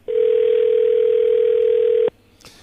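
A single steady telephone tone sounds loud and unbroken for about two seconds, then cuts off, leaving quiet room noise behind.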